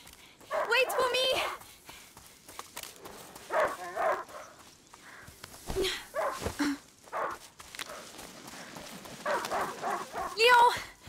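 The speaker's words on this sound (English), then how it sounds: "A hunting dog is not supposed to lose its hunter." Leon, a hunting dog in A Plague Tale: Innocence, barks in repeated bursts near and fairly loud, mixed with footsteps and other game sounds, while a voice speaks in between.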